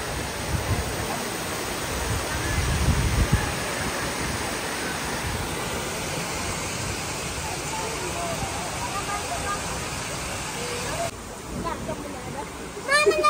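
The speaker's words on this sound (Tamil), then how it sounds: "மழை பெய்யுது" Heavy rain pours down in a dense, continuous hiss outdoors, steady and loud throughout, with faint voices mixed into the wash.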